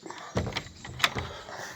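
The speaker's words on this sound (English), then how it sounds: "So now I just shut that back door back up." A back door being pulled shut at a pigeon loft, giving a couple of close, solid knocks and a sharp latch-like clack, with quiet handling noise between them.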